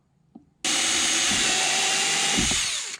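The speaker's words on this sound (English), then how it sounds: "Just need to drill them out." A power drill with a 1/8 inch bit drills holes for a glove box hinge repair on a Chevrolet Squarebody truck, whirring steadily for a couple of seconds after a brief knock, then winding down; close and loud, no talking.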